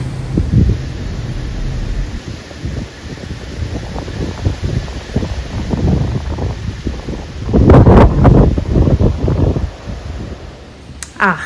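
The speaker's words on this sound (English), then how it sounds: "It's getting a little gnarly out here with this wind." Strong wind gusting through an outdoor garden during a windstorm, a constant rushing roar on the microphone with louder buffeting bursts toward the end.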